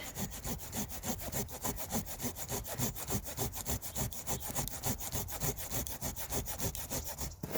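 A Bosch jigsaw blade held in a Leatherman Surge multitool saws through wood by hand in quick, even back-and-forth strokes, a close, rasping rhythm that repeats steadily and alone with no talk.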